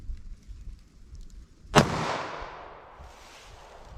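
A single sharp .45 ACP handgun shot fired into a clear ballistics gel block, one loud crack with a decaying echo trailing off over a quiet outdoor background.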